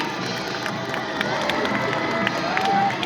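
A large audience of children and parents at an outdoor school parade in Pakistan gives a dense, steady wash of clapping and cheering, loud and close throughout, with scattered shouts rising from the crowd.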